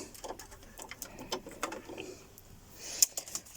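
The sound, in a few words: sewing machine zigzag stitching cardboard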